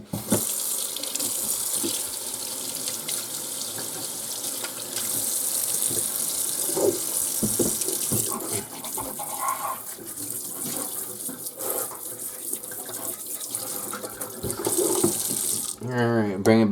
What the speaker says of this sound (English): bring it over to the sink, give it a nice rinse.